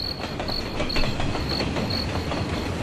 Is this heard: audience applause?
no